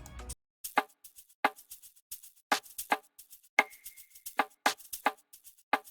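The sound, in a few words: shaker and percussion loop from a drum kit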